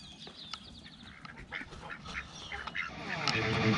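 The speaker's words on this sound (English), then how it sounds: "What are you guys doing to these ducks?" Ducks quack and honk in a backyard coop, several birds calling over scuffling and rustling, growing louder toward the end.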